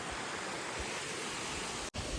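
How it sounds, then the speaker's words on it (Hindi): Water flows steadily at an outdoor picnic spot, making a dense, continuous rushing hiss close by. No one speaks. "बाकी इधर देखिए मस्त पानी बह रहा है"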